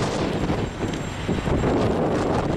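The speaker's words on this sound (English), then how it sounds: "it is really windy, snowy out" Strong gusting wind in a snowy blizzard buffets the microphone with a loud, rumbling roar that swells and dips unevenly throughout, close and continuous, with no voices.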